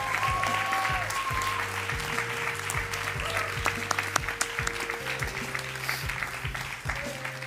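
An audience at a writers' awards ceremony applauds poetry winners with sustained, dense clapping filling the room, steady throughout with a low hum beneath.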